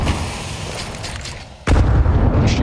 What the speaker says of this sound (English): Exchanging grenades, negligible damage, both sides.